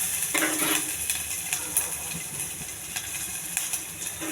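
Dried red chillies and onion pieces frying in hot oil for a spinach dal, giving a steady close sizzle with light stirring taps and clicks, and no voices.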